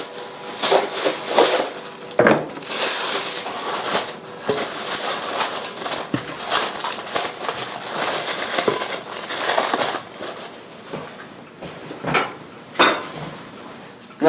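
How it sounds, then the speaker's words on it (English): Plastic cling wrap is stretched over a bowl of hot buffalo chicken and jalapeño cheese dip, giving continuous close crinkling and crackling with sharp handling clicks and a few louder bursts. "I'm going to cover it with a little saran wrap, and it's microwave safe."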